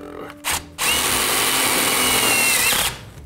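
A power drill drives screws into a metal basement heat duct, giving a short burst, then a steady high whirring run of about two seconds that stops abruptly.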